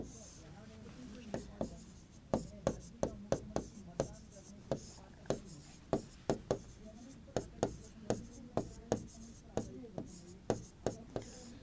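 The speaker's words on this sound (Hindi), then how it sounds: "यही नोट लगाकर बात लिख रहा हूं।" A pen writes notes on paper in steady, close taps and scratches, a quick irregular rhythm of strokes continuing throughout, with soft speech faintly in the background.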